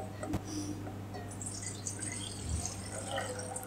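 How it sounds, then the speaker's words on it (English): Cloudy rice-washing water being drained from washed rice by hand, without a colander, at a Sri Lankan canteen: soft trickling and dripping water against a steady low background hum, with a faint splash near the end. "Over here, we wash our rice and we drain,"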